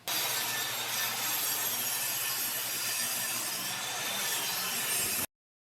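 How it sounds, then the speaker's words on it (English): Table saw ripping the rough edge off a hardwood 2x4, a steady, loud whine of blade cutting wood that runs without a break for about five seconds and then stops abruptly. "Now we're going to take it over to the table saw."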